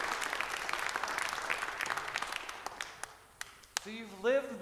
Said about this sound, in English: I think a round of applause is appropriate.